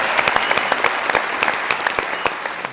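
Studio audience applause on a comedy talk show, brisk clapping with distinct sharp individual claps popping out over a continuous crowd patter.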